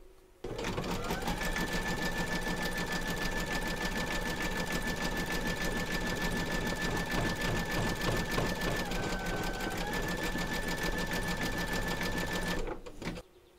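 An embroidery machine stitches a belt buckle in gold thread, running close and steady with a rapid, even needle rhythm and a faint whine, continuous for about twelve seconds before cutting off.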